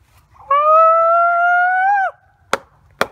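A person imitates a Bigfoot call with one long, steady, loud howl lasting over a second, followed by two sharp wood knocks outdoors; no talk.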